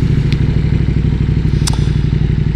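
A KTM 1290 Superduke R engine runs steadily up close, a dense, continuous low rumble with light clatter and a couple of brief ticks, and no voices.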